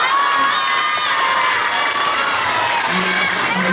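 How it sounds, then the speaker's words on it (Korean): A room full of children claps and cheers loudly, and the excited shouting carries on without a break. "박수."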